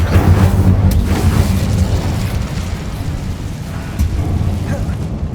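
Incendio fire spell cast in Hogwarts Legacy, a loud roaring burst of flame with booming crackle that surges at the start and keeps rumbling without pause.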